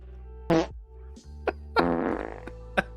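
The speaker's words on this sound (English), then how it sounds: "How many farts do you have?" A series of short fart noises, several quick blurts of varying length with pauses between, over a faint steady hum.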